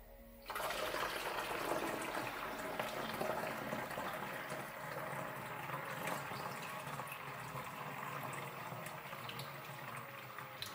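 Mayhems Aurora silver coolant for a PC water-cooling loop pours in as a steady, close rush of liquid that starts abruptly and keeps flowing without a break.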